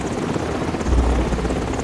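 A helicopter carrying refugees drones with a steady low rotor rumble that swells slightly midway, a continuous noisy wash with no talk over it.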